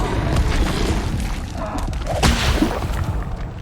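An Incendio fire spell is cast in a Harry Potter video game, bursting as a whooshing blast with a few thuds and crackles over a rumbling game soundscape.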